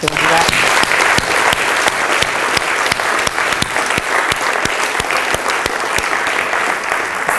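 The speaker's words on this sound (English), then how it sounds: "I just want everybody to just give themselves a hand clap right now" An audience gives itself a round of applause at a conference, with loud sustained clapping for about seven seconds that includes a few sharper individual claps near the front.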